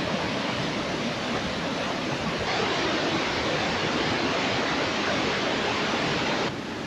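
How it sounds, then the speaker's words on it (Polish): Victoria Falls roars as a broad, unbroken wash of falling water, loud and constant from a viewpoint overlooking the whole waterfall, with no voices. "Zobacz, bo tu widać całą panoramę tych wodospadów stąd."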